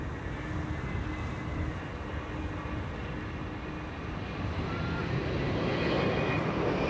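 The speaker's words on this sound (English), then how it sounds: "Delta Airlines, arriving from Salt Lake City, Utah." A Delta Airlines airliner arriving at Amsterdam Schiphol from Salt Lake City makes a moderate, steady engine roar that swells louder toward the end. Faint talk sits beneath it.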